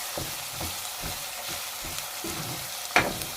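Saag greens stirred and frying in a pan for makki ki roti, a steady soft sizzle with rhythmic scraping strokes of a spoon, plus a sharper clank near the end, close up with no talk.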